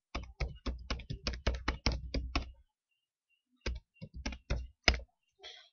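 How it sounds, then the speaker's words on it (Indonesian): Keystrokes on a computer keyboard typing a website address into a browser, a quick run of close, crisp clicks, a pause, then a shorter burst of taps. "Kita ketik di alamat browsernya www."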